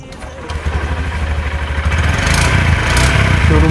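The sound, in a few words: Honda SP125 motorcycle engine starting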